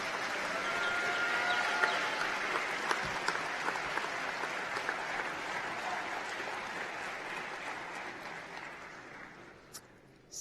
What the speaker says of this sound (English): So please, a big round of applause for them as well.